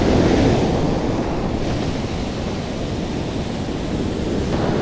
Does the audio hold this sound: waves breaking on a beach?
yes